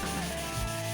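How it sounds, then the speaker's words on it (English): Sanding an early-1990s mountain bike frame, a brief close, steady abrasive rubbing with a faint tonal hum underneath, no speech. "a lot of sanding here"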